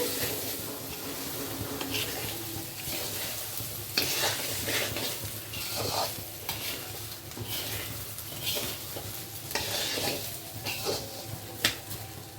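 Rice and dal stirred in a hot pan for Bengali masala khichuri, a continuous frying sizzle with rhythmic scraping and clinking spoon strokes against the pan, a voice briefly audible underneath.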